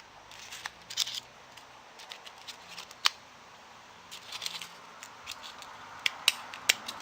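Scissors snip a dried philodendron leaf indoors in a quiet room, giving sparse, crisp clicks and crackles scattered across the stretch, with a few sharper cuts standing out.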